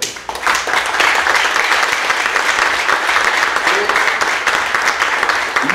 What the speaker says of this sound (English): I want us to give them all a round of applause.